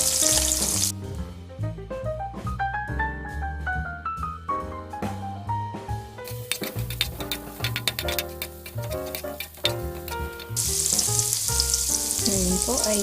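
Ginger frying in a pan after onions have gone golden brown: a steady sizzle sits under loud background music, coming through most clearly at the start and end.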